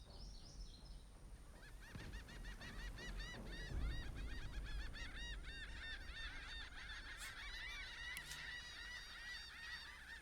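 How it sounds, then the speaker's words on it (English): Geese in Divinity: Original Sin 2 honk repeatedly in a dense, overlapping chorus that runs for most of the stretch, loud and close, with no talking. "I hope you guys like birds, because we're going to be hearing them for a little bit."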